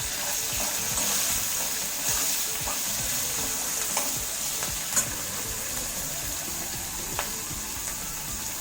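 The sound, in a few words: green chilies roasting in a pan with salt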